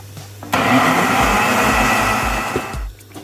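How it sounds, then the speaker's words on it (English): A kitchen blender whirs steadily as it purees ginger with olive oil and salt, starting abruptly with a loud, rough motor roar and thumping, then cutting off after a few seconds. "Now I'm going to be blending my ginger."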